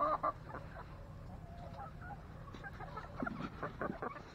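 Backyard chickens cluck softly and irregularly nearby, short low calls scattered through a quiet outdoor setting with no speech.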